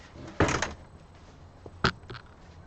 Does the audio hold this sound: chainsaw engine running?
no